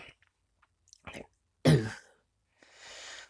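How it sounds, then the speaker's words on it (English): A man clears his throat close to the microphone in one short, rough burst, with a few faint clicks and a soft breathy sound around it. "Gotta clear my throat real quick"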